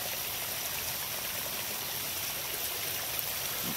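Hot sulfur spring water flows steadily along a stream, a constant close rushing hiss with no talk over it.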